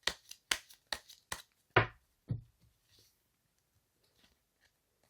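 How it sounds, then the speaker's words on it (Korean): Tarot cards are shuffled and drawn by hand, giving a quick series of crisp riffling snaps, then two heavier slaps as cards are set down, followed by quiet. "여러분들 마지막으로 조언 카드 뽑아보도록 하겠습니다"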